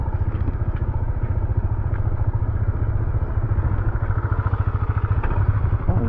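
A motorcycle rides at night on a slippery road, its engine a loud, steady rumble with rapid pulsing firing beats and occasional clattering thumps, close and continuous throughout, with no voices.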